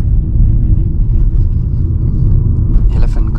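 A car driving nonstop along a mountain road between Munnar and Chennai produces continuous loud low road and engine rumble from inside the cabin, with faint voices underneath and a brief brighter rustle near the end.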